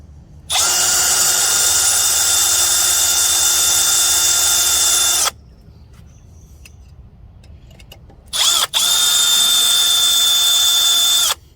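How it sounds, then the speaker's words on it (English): A power drill drilling into a broken bolt whines at high speed in two long bursts, stopping briefly in between with a short stutter before restarting, close and loud. "I'm angling my drill and I'm going to pull it back straight to where I want it"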